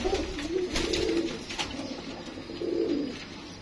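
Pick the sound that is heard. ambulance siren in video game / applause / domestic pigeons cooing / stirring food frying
domestic pigeons cooing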